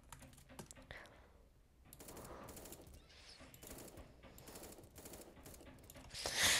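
Rapid pistol shots ring out in the cartoon-style shooter game 1v1.LOL, a quiet scatter of sharp cracks spread across several seconds with a brighter burst at the end.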